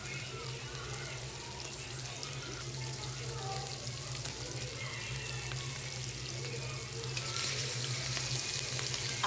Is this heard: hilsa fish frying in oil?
yes